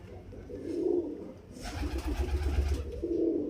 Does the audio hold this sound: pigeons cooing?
yes